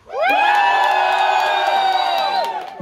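A live concert crowd at a show in Gothenburg screams and cheers in one loud, sustained roar of many high voices, building quickly and holding steady for nearly three seconds before easing slightly at the end.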